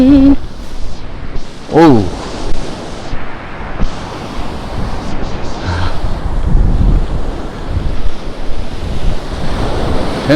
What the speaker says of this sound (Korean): 행복한섬 거품 파도가 멋지게 일고 있습니다